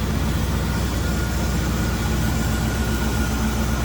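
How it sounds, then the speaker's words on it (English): A 1985 Buick Riviera's 5-liter V8 idles with a steady, smooth, broadband rumble heard close under the open hood, unbroken and without any talking. "V8 underneath the hood."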